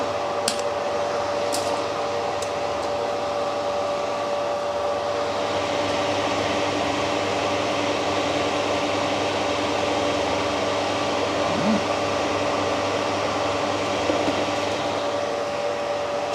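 A Fernox MKIII flushing machine circulating cleaning chemical through a central heating system, producing a loud, steady whirring hum with a constant tone that runs unchanged throughout.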